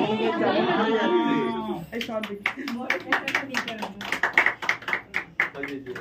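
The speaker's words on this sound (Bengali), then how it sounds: "জোরে হাততালি দাও, সবাই হাততালি দাও" Audience clapping at a birthday celebration for a Bengali theatre group. A voice is heard first; then a dense, uneven burst of many hands clapping takes over and runs close and lively for several seconds.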